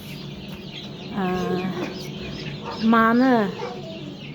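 Baby chicks peep during hatching, a couple of rising chirping calls close by, the second louder, with someone speaking Uzbek over them.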